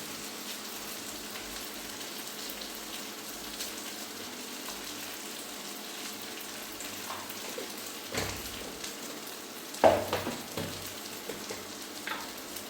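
Ginger and garlic fry in a pan with a faint continuous crackle, quiet and close, broken by a few louder stirring clatters and scrapes toward the end, no voices.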